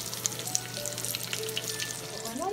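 Food browning in a frying pan on a home stovetop, giving a steady close sizzle and crackle with small pops, running on without any voices.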